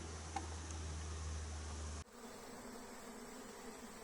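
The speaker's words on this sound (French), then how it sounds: "Un essaim en train de rentrer dans une ruche piège." A swarm of honey bees drones with a dense, continuous buzz as it moves into a bait hive during a spring swarming, sounding steady and close, with a sudden shift in background tone partway through.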